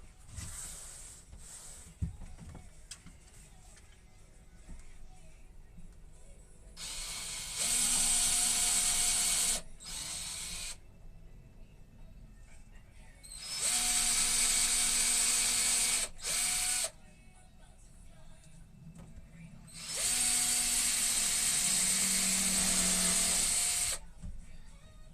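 A cordless drill run in a woodshop while building a plant cold frame, in three long whining bursts of a few seconds each, separated by pauses; the steady motor tone holds through each run without slowing.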